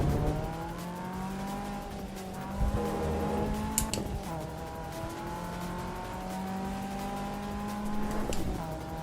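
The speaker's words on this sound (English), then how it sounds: "that's me downshifting too much" Race car engine in Assetto Corsa EVO revving hard through repeated downshifts, rising and falling tones with throttle blips and brief tire squeal, loud and continuous throughout.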